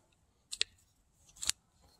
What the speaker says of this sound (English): So now I take some scissors or tin snips